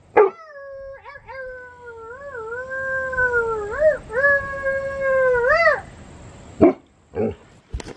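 Dog howling up close in long wavering notes that rise and dip over several seconds, with a few short yips and brief sharp noises near the end.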